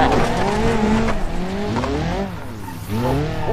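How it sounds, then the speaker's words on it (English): A car in the BeamMP driving game hisses and whines from its turbo while the tires squeal and skid, loud and continuous with shifting engine pitch. "The turbo sound on this car."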